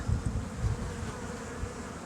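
Bees buzz in a steady, dense drone close by inside an open hive with frames, a continuous hum with occasional low thumps.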